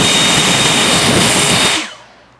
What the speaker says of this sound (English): we have this new Ego blower